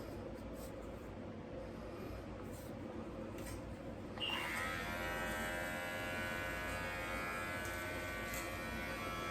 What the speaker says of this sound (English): Attachment that comes with the Rio Beardscape trimmer